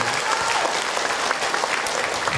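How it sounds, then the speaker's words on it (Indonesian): A room of mothers at a religious talk applauds, a loud, close, continuous wash of clapping hands that holds steady throughout without a break or any speech on top. "Tepuk tangan atuh buat bunda semua."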